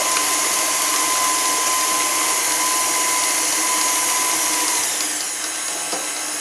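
An electric mixer on medium speed beats a large egg into chocolate red wine cake batter, a steady close whirring drone that runs continuously with no talk, easing slightly near the end.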